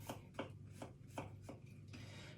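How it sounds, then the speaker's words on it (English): Garlic is chopped with a knife on a board in five evenly spaced, close, crisp taps, then a brief scraping rustle, with a low steady hum beneath. "I'm just chopping this garlic"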